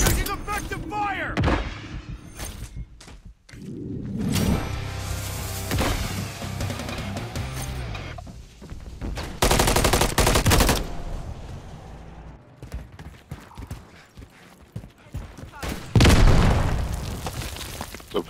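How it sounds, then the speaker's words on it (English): Gunfire and explosive bursts in the Black Ops 6 video game, coming in as loud, dense volleys and booms with quieter gaps between them, while a voice talks over parts of it. "Taking effective fire."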